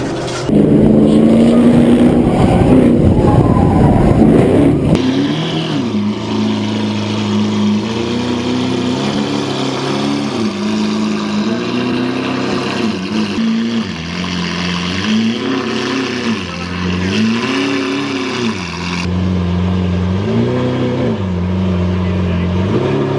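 A Ford Mustang Shelby GT350 engine drones while driving, its pitch rising and falling in waves as it accelerates and eases off, loud and close from inside the car; a voice speaks briefly at the start.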